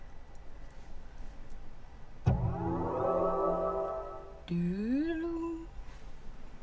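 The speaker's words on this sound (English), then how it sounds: "That's what you can hear when you turn the car on." A gold BMW plays its start-up chime when switched on: a soft click, then a bright rising electronic tone swell, followed by a second gliding chime, quiet and close in a calm cabin.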